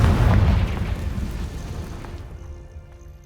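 A Confringo fire spell detonates in Hogwarts Legacy, a loud booming blast right at the start that rolls into a crackling, fading rumble.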